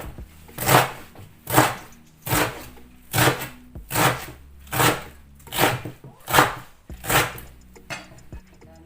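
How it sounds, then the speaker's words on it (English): A knife cuts through celery on a cutting board in about ten evenly spaced, crisp chops, close and loud with brief quiet gaps between strokes. "At the same time I will cut this celery."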